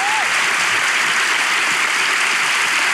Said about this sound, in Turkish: İlişki testi alkışlarla başlıyor.